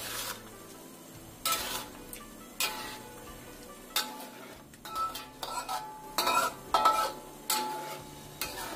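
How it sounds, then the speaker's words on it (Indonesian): Spatula or spoon stirring food in a metal pan, repeated scraping and clanking strokes at an irregular pace over a soft sizzle, close by. "Kita aduk rata lagi."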